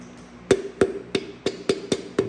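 A Porsche 911 piston is tapped into its cylinder with a dead-blow style tool during engine assembly: seven sharp, close knocks at a steady, slightly uneven rhythm, with quiet gaps between them and no speech.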